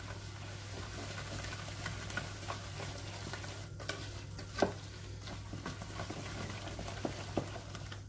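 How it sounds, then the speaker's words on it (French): Biscuit dough for traditional crescent-shaped ghriba is stirred and mixed by hand after oil is poured in, giving a steady soft wet churning texture with a few light knocks and scrapes of the bowl, no talking. "وهنا غادي نزيدو الزيت، غادي نخلطو."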